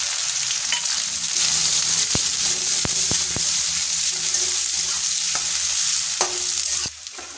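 Chopped onion, with ginger and green chilli, frying in hot oil in a wok for an evening snack, giving a steady loud sizzle and several sharp spatula taps and scrapes as it is stirred, with no talk.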